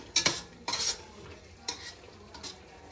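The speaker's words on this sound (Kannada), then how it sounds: "ಹಾಕ್ಕೊಂಡು ಚೆನ್ನಾಗಿ ಫ್ರೈ ಮಾಡಬೇಕು." Tomato paste being stirred and fried in a pan while cooking biryani, with a few scraping stirs and crackling bursts in quick succession, fairly close, no voices.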